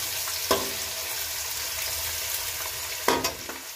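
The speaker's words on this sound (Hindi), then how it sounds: "प्याज भी करते हैं हल्का फ्राई" Onions frying lightly in hot oil give a steady, close sizzle throughout, broken by two sharper scrapes of stirring, with no talking.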